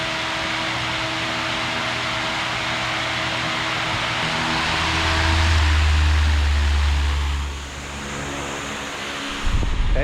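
A Newair 24-inch pedestal misting fan runs on its low setting, giving a steady broadband whoosh of moving air with a low motor hum that swells briefly mid-way, then a clunk near the end.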